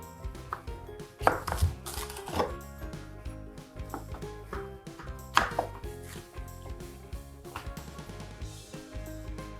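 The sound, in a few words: knife cutting cucumber into julienne strips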